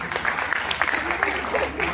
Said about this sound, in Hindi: वो एक बार जोरदार तालियां बजाइए।